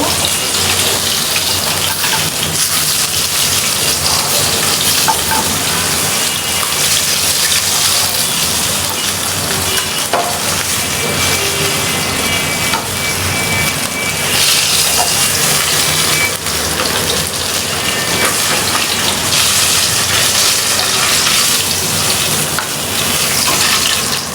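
Fish sizzling in hot oil in a pan, a steady dense crackle and hiss that runs loud and unbroken the whole time, close by, with no talk over it.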